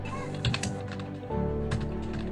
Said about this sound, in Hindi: तो दोस्तों ये मोबाइल मैं यहाँ रख देता हूँ अभी और टाइपिंग मैं स्टार्ट कर देता हूँ दोस्तों।